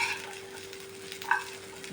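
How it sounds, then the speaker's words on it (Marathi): Ginger and garlic roast in a pan with a soft, steady sizzle and occasional scraping stirs, fairly quiet. "हे सगळं आपण आता भाजून घेऊ दोन मिनटं हे भाजून घ्यायचे"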